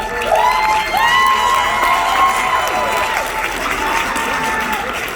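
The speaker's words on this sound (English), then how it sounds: "So Lou and Tracy Humphrey, can you all stand up so we need your round of applause?" A crowd at an event in a Crowne Plaza hall applauds and cheers, with some shouts mixed into the steady clapping. It holds for several seconds.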